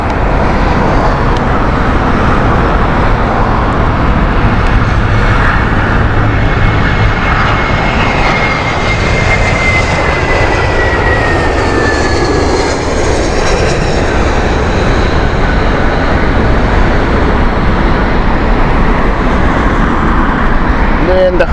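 An aircraft on the Geneva flight passes at Heathrow Airport with a loud, continuous engine roar and a high whine that slowly falls in pitch, steady throughout.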